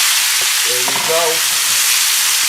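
Lean minced beef filling for cheesy beef patties starts frying in oil in a pan on the stove, giving a steady loud sizzle with a voice briefly over it.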